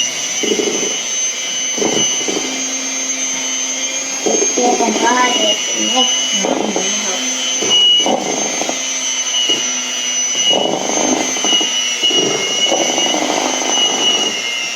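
An electric mixer runs on slow speed through apple cookie dough, a steady high motor whine with a hum underneath, while people talk over it intermittently.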